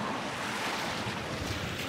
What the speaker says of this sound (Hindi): हवा चल रही है इतनी तेज बहुत ज़्यादा और ठंड लग रही है एकदम से